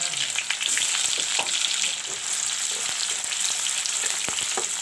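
Onions fry in mustard oil with panch phoron for a drumstick, cauliflower and potato curry, a loud, constant close-up sizzle with occasional stirring taps and no voices.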